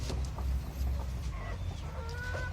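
A brooding Silkie hen on a farm makes low, soft clucks and murmurs close by, with faint chirps from other birds in the background.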